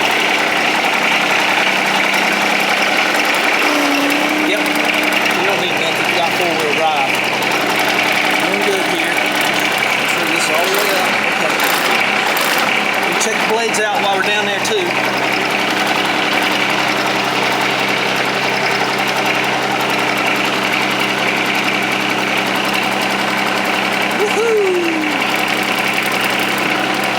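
A John Deere 2305 compact tractor engine running steadily while creeping forward in low gear, a constant close mechanical hum and rattle with someone talking over it at times.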